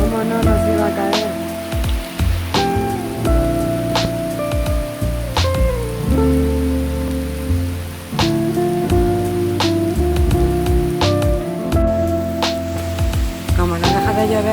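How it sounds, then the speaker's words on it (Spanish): Heavy tropical downpour at the Maya temples in Guatemala, a steady dense hiss of rain drumming on surfaces beneath a roof shelter, with faint voices and tonal sounds mixed in. "donde comenzó a diluviar"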